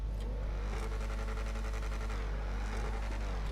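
A sports car in GTA 5 Online idles with a loud, steady engine rumble and faint crackling from the exhaust, continuous and close with no talk.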